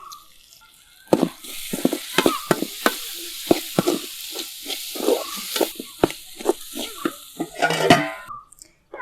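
Fennel seeds and curry leaves drop into hot oil for a Kerala chicken curry, crackling and sizzling close up with repeated sharp spits and pops, a stirring clatter against the pan running through, no talking.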